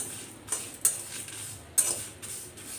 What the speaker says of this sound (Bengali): এখানে আমি পাঁচ ফোড়ন আর কয়েকটা শুকনো মরিচ কড়াইতে টেলে নিচ্ছি।